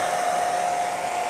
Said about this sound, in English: Nothing like a pink hair dryer.